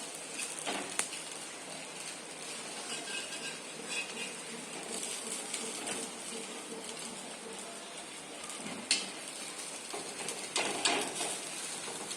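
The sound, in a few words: sabudana paratha frying in oil on a pan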